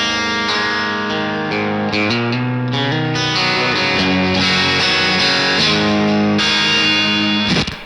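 Dirty, compressed electric guitar tone through a Sonicake Pocket Master into a 2x12 cabinet, with a Vox-style crunch: continuous loud chords and riffs played alone for about eight seconds, ending abruptly.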